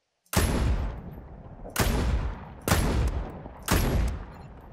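Four heavy sniper rifle shots in a video game, each a sharp loud crack with a long booming tail, spaced roughly a second and a half apart, close and alone.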